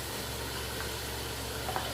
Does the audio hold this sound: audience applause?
no